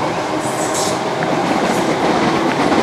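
Train rolling past with a loud, steady rumble and rattling wagons, faint wheel squeals drifting above the continuous roar, no voices.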